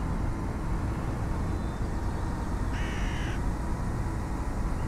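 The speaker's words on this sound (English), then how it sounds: "I just heard a crow." A crow cawing once in the distance, a brief harsh call rising over the steady rumble of a coach engine and road noise.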